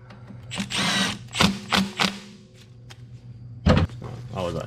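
A pneumatic impact wrench tightens a bolt on a Honda power steering pump, firing in several short loud bursts with pauses between them, with clanks of tools and someone speaking under and between the bursts.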